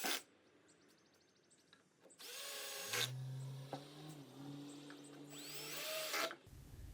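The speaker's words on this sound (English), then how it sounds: "After clamping the side in place, I attached it using pocket hole screws." A drill drives pocket hole screws into the wooden side of a shelf, with two loud sustained bursts of whirring motor and rising pitch, separated by a quieter pause, close to the mic.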